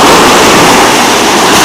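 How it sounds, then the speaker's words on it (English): Loud, continuous surf from whitecapped ocean waves breaking along the beach at Sea Isle, a dense rushing wash with no talking over it. "Waves are quite nice."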